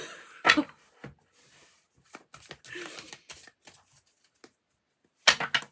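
Several quick papery riffles and soft card slaps as tarot cards are shuffled in a quiet room, short bursts separated by pauses, close and fairly faint.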